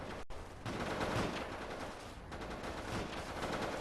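Shotgun-armed engineers and militia fighting in Company of Heroes, rendered as a dense, continuous crackle of gunfire with rapid overlapping shots at moderate, steady volume.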